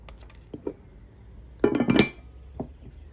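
Cookware pots and lids clinking and clattering as they are handled up close, a few light taps followed by a denser burst of metallic rattles and a final knock, fairly quiet and with no speech.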